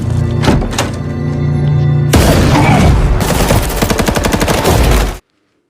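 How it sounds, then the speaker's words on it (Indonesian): Rapid bursts of gunfire in a film shootout crack out loud and close, volleys overlapping in a chaotic exchange with heavy thuds, then cut off abruptly into silence. "Pertempuran pun pecah. Tembakan saling bersahutan"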